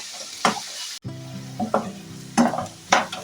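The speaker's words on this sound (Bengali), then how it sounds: "এবার এই পেঁয়াজ কুচিগুলোকে একটু ব্রাউনিশ মতো করে ভেজে নিচ্ছি" Chopped onions frying in mustard oil in a kadai over a medium-low gas flame, a steady close sizzle punctuated by several sharp stirring scrapes and clanks of the spatula against the pan.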